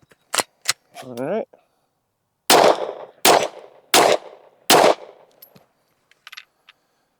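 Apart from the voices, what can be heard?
gunshots fired at a target while testing a red dot sight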